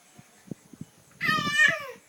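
A cat gives one drawn-out meow near the end, close and fairly loud, after a stretch of soft taps and shuffling in a home where a child is playing.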